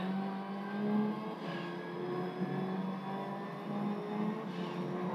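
An Evo 7 rally car engine in Gran Turismo 3, racing a rally event on the Tahiti Maze course, a continuous buzzing game engine drone with mild surges in revs, moderately quiet and with no talk.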